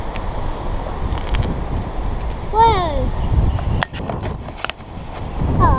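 Strong outdoor wind buffeting the microphone at a park, a steady low roar with gusts throughout, while a voice and another voice speak briefly over it.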